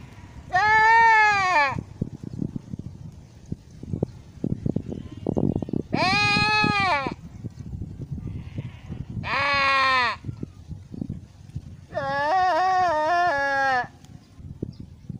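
Goats give four loud bleats, long and wavering, spaced several seconds apart, with quieter rustling and clatter between them. A voice may be imitating the bleating.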